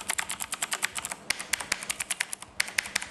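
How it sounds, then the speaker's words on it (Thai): Mechanical keyboard keys clack in quick, crisp bursts of typing, close up and clear, with short pauses between runs of keystrokes. "เมคานิคอลคีย์บอร์ดตัวนี้นะฮะเรามาฟังเสียงมาฟังเสียงกัน"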